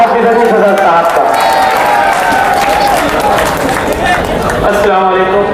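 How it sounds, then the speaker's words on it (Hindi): A large crowd applauds loudly and steadily to welcome Hafiz Ali Sadar at an outdoor Islamic speech gathering in Naya Pura, with sustained clapping and murmuring voices throughout. "पुरजोर तालियों में इस्तेकबाल करें हाफिज अली सदर साहब का"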